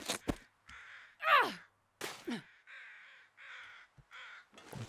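Several crows caw in The Long Dark survival video game, a series of harsh, rasping calls spaced across a quiet background, fairly close and clear with no talk over them.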